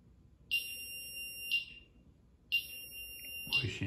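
Somfy alarm keypad beeping to signal an open door, two sustained electronic beep tones each lasting about a second, clear and close, separated by a quiet pause, with faint background noise and a brief voice at the end.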